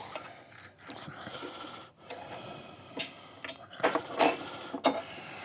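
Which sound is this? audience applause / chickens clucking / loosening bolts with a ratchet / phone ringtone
loosening bolts with a ratchet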